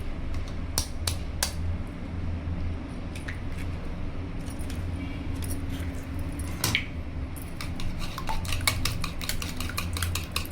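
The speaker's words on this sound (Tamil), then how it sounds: "2 முட்டையை உடச்சி தனியாக நம்ம ஒரு கிணத்துல ஊற்றி அடித்து எடுத்து வச்சிடலாங்க." Two eggs being beaten in a bowl for egg kebab: quick, repeated metallic clinks and taps of a utensil against the bowl in uneven bursts over a low kitchen hum.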